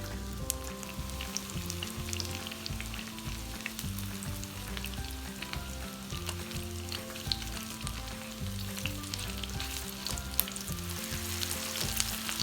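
Chicken cutlets for chicken Francese fry in batches in a hot pan, producing a dense, steady sizzle and spitting crackle throughout, with faint background music tones and no speech.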